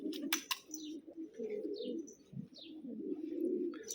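Pigeons in a breeder's loft coo softly and continuously in low rolling phrases, with occasional chirps and a few brief wing flaps near the start, all fairly quiet and close.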